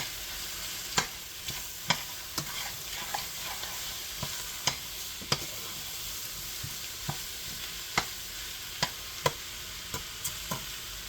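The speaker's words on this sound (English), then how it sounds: "you're just going to cook this and stir it until it's brown" Food cooking and being stirred in a pot until browned, a steady sizzle with regular scraping stir strokes about once a second, close and alone.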